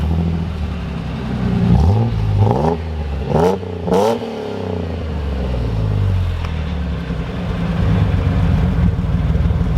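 A Holden VN car engine cranks and fires after a fuel filter change, then revs up and down in several rising and falling surges before settling into a rough, loud idle close by.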